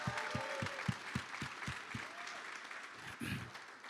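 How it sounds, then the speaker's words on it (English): An audience claps for the morning's conference speakers, with rhythmic low thumps mixing into a wash of scattered applause that fades near the end. "Let's give a round of applause for all the speakers that spoke this morning"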